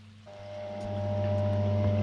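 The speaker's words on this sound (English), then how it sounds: "You can hear the pump" A koi pond filter pump hums steadily with a low electrical drone and a faint tonal whine, close and constant, growing slightly louder, with soft water sounds beneath.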